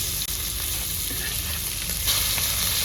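Semolina-coated fish fries in a pan with a dense, unbroken sizzle that stays loud and even throughout, with no voices over it.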